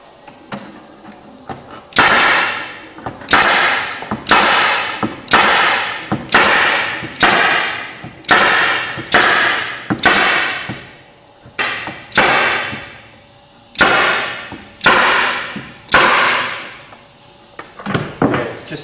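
Crown staples driven into a wooden beehive frame, a steady series of about sixteen sharp, loud, close bangs spaced roughly a second apart, with no talking.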